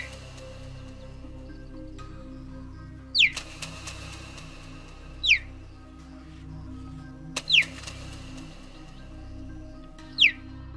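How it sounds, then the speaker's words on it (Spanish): Four sharp, high, bird-like cheetah chirps, each a quick downward sweep, spaced a few seconds apart over a steady low hum. "Los guepardos tienen una amplia gama de sonidos para comunicarse"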